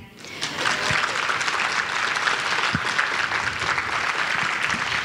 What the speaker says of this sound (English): Can we first clap for Mr. Lady again?